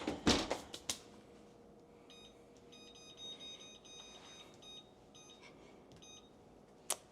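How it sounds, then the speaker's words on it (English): Oven timer being set while baking sweet potato pie, a series of short bright electronic beeps in quick clusters at moderate distance, preceded by a few sharp clicks and knocks of handling in a quiet kitchen. "Timer set."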